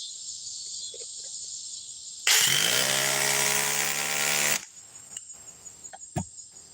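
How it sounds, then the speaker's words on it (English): A subcompact impact driver runs a fastener into wood: a loud, steady, buzzing high-pitched whir that lasts about two seconds and then stops abruptly, with faint tool and handling sounds before and after. "And we'll run the subcompact impact driver."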